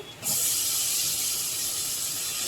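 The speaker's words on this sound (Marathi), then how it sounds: "कांदा पण फ्राय होतोय" Chopped onion sizzling in hot oil in a pan for a Marathi-style soda (dried prawn) curry, a steady close hiss that starts abruptly and holds level throughout.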